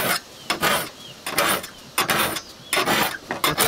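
A hand file rasps across saw teeth in regular back-and-forth strokes, about six or seven loud, close, gritty passes in quick rhythm.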